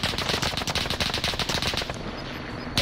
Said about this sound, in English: That's probably who they're shooting at.